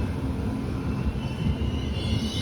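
A fast passenger train from Hubballi to Srisailam rumbles with a steady low drone at Kudthi railway station's platform 2.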